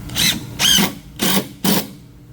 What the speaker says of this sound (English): to drill my holes for my shelving